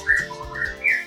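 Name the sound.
murai (magpie-robin) songbirds singing and calling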